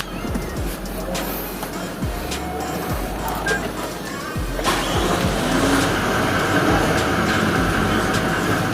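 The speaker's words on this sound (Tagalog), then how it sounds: "Start the engine." Toyota Land Cruiser engine after a rack-and-pinion repair, rumbling steadily with rattling mechanical knocks, growing louder toward the end as it runs.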